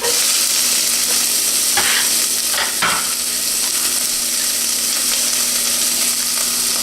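Onions and garlic sauté in olive oil in a soup pot, giving a steady, close sizzle and crackle throughout with a few brief stirring scrapes and no talk.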